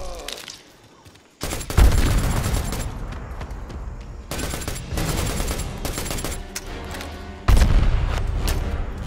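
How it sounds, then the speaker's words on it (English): Heavy gunfire and a booming grenade blast in the Predator: Hunting Grounds shooter, with loud sustained shooting broken by sudden broadband bursts after a brief lull near the start, no clear talk over it. "Grenade out."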